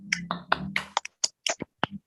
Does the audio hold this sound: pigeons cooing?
no